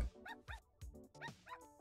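A dog in the video game Out of Space gives a series of short, quick yips and barks, about five of them, in a fairly even rhythm. The sounds are close but quiet, and no one talks over them.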